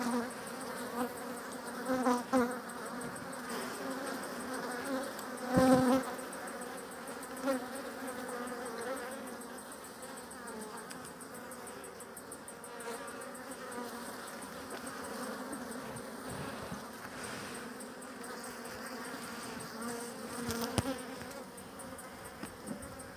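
Steady, dense buzzing of many honey bees close by at an open hive, a continuous droning hum with a few louder swells as individual bees pass near.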